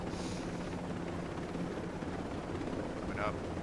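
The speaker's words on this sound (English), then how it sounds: "I like this TC helicopter from Magnum" A Magnum TC helicopter flying, heard as a steady, loud rotor and engine drone that fills the whole stretch. A voice talks briefly over it.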